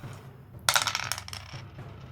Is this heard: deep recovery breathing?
no